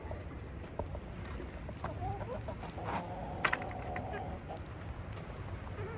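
Hens cluck and murmur in a small group, soft and close, under steady wind noise outdoors, with a few sharper calls rising now and then.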